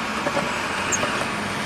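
A Duramax diesel pickup with a bad glow plug module gathers speed, giving a steady broadband road and engine roar at moderate level throughout the short stretch, with no voices.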